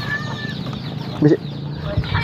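Chicken sounds at a rural Indonesian homestead in Kiara Payung, with a short, loud burst of clucking or crowing from a rooster near the middle over steady background noise and faint voices.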